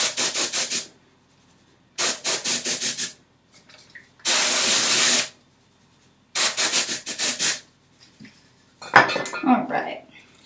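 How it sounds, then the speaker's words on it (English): Dry shampoo sprayed onto hair, a few hissing aerosol bursts, short pulsed sprays followed by one long continuous spray, close and loud, separated by silences, with a bit of rustling near the end. "I'm going to spray a little bit more dry shampoo"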